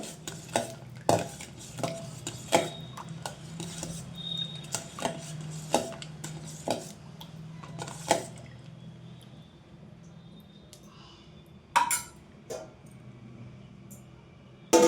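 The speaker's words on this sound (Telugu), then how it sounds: "పోపు యాడ్ చేసుకున్న తర్వాత ఒకసారి కలుపుకోవాలండి" A spoon stirs cooled fried tempering into buttermilk in a steel vessel, giving a series of sharp clinks and scrapes against the metal, busier at first and thinning out toward the end, with quiet liquid swishing between.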